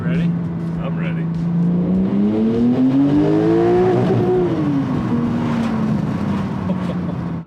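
A Porsche 992 Turbo S with a Stage 1 tune accelerates hard, its engine note climbing steadily through the rev range, then dropping and holding, heard from inside the car with people talking.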